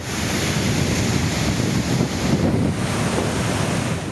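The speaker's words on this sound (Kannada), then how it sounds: "ಕ್ರಸ್ಟ್ ಗೇಟ್ ಚೈನ್ ತುಂಡಾಗಿರೋ ಪರಿಣಾಮ ತುಂಗಾಭದ್ರಾ ಜಲಾಶಯದಿಂದ ಲಕ್ಷ ಕ್ಯೂಸೆಕ್ ನೀರು ಪೋಲಾಗ್ತಿದೆ" Water gushes from the broken crest gate of the Tungabhadra dam, a loud, dense, unbroken roar of rushing water mixed with wind buffeting the microphone, steady throughout with no voices.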